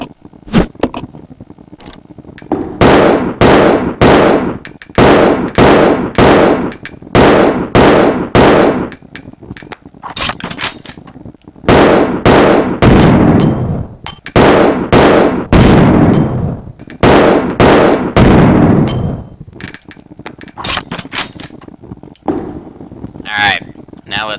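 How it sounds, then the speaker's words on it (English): Billy's custom handgun in Resident Evil Zero fires in repeated loud bursts of sharp shots, with short pauses between volleys. "Alright, here's Billy's custom handgun."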